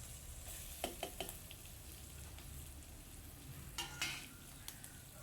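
Chopped onion pieces frying in a pan with green chilies, a faint low crackle with a few soft scraping stirs, steady and quiet throughout.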